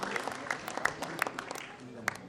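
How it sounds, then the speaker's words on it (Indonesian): Audience applause at a televised national dialogue event, a brief patter of clapping at moderate distance with a few sharper individual claps standing out. "Kita berikan tepuk tangan yang meriah"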